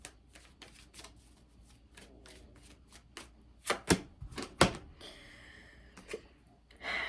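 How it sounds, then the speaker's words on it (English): Tarot cards being shuffled and pulled close up, with a series of quick papery flicks and riffles, a few sharper snaps mid-way, and a brief soft rustle at the end. "I'm just gonna keep pulling cards."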